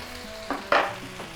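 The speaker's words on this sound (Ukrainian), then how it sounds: "І смажемо." Food for a fricassee frying in a hot pan, with two short bursts of sizzling and stirring rising over a quiet background.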